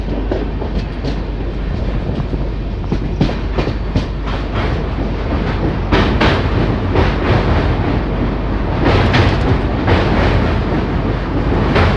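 A Garib Rath Express runs on the line near Kumedpur Junction, a loud continuous rumble with repeated clickety-clack wheel beats, heard from on board.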